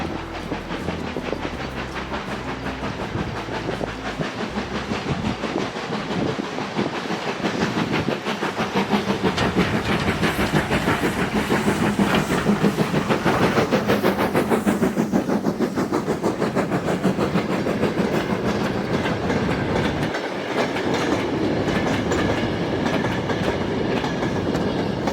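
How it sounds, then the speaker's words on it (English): A steam locomotive runs on the Swanage Railway during a spring steam gala, a loud, steady rumble with rhythmic clickety-clack of wagons and hissing steam that swells toward the middle and continues to the end. "now to the Swanage Railway's Spring Steam Gala, with visiting 2MT from the Isle of Wight"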